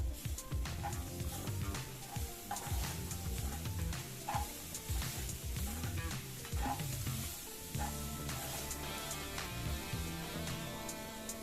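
A pan of banana flower and cooked green gram stir-fry, Kerala thoran style, is mixed with a utensil that scrapes and clatters in an uneven rhythm over a constant sizzle, close and continuous.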